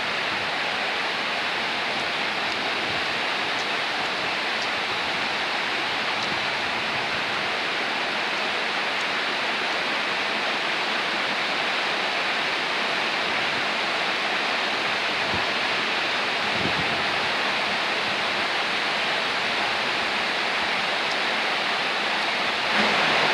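Steady, dense roar of falling water from a waterfall, continuous and loud throughout with no voices or pauses.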